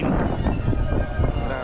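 Strong cold wind gusts at Tokyo Disneyland in Japan, roaring steadily and loudly across the microphone with broad rumbling buffeting throughout and no clear pauses.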